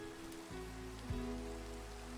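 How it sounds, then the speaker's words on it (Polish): Rain falling in a video game at night, a steady hiss of drops on surfaces under low droning tones, fairly quiet and continuous. "Ciemno, deszcz pada"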